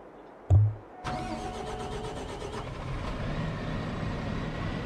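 A tractor engine starts in Farming Simulator 22: a thump, then the motor cranks and catches, settling into a steady mid-pitched idle that runs on, close and moderately loud, with no talking.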